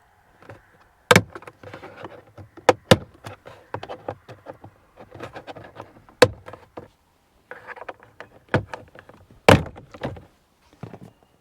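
Locking tabs on a plastic glove box trim panel in a Ford F truck cab being pried free, giving a series of sharp plastic snaps and thunks amid softer scraping and handling noises, close and isolated.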